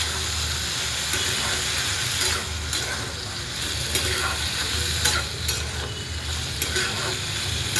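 Salted potato curry is stirred steadily in a pan, giving a continuous close scraping and ratcheting of the spoon against metal over a constant frying hiss, with no pauses and no speech.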